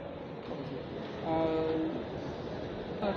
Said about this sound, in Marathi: ट्रेन सुरू होते